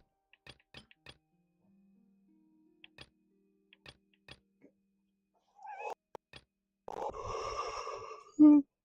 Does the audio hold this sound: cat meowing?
yes